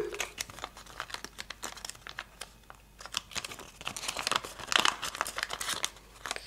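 Origami paper being folded for a Carambola model, with close crinkling and creasing along with sharp paper taps and rustles that come in an irregular, busy rhythm, with no speech.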